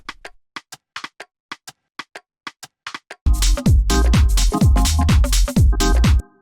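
A subtle percussion drum rack from a minimal house track ticks alone in dry, sparse clicks for about three seconds, then the full mix crashes in loud with thumping kicks, tonal stabs and dense hi-hats driving a steady groove.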